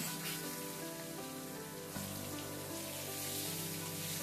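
Cut potatoes sizzle and fry steadily in a pan, a continuous hiss of hot oil that stays even throughout with no voices.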